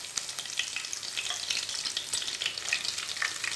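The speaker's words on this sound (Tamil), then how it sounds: "கருவேப்பிலை நல்லா பொரிஞ்சிருச்சுங்க." Mustard seeds and curry leaves splutter in hot oil for fish curry, a faint, close crackle of scattered sharp pops over a soft sizzle, with no talk.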